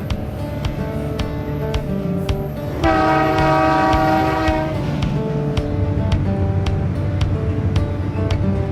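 A Via Rail passenger train's horn sounds a sustained chord for a few seconds over a steady rumble of rail noise and rhythmic wheel clicks, travelling a mountain river valley north of Kamloops, Canada.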